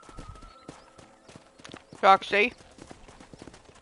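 Horse hooves clip-clop during riding in the video game Red Dead Redemption, with a brief loud burst midway. Speech runs over and around the hoofbeats.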